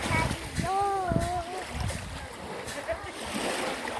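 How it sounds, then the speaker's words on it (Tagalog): Sea water at a beach in Calatagan, Philippines, washing and splashing in a steady wash of surf, with people talking over it. "Ito yung dagat. Malinaw rin siya."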